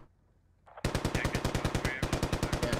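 Heavy automatic cannon fire from an infantry fighting vehicle shooting through a building in the video game Squad, starting after a quiet moment as a loud, rapid, steady burst of closely spaced booming shots that keeps going.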